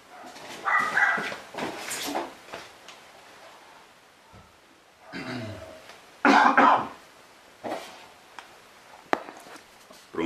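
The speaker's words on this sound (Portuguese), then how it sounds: "Cachorrada latindo lá fora." Several dogs barking outdoors, heard as scattered barks and yelps at a moderate distance, some with a coughing, husky quality, with occasional quiet sounds in between.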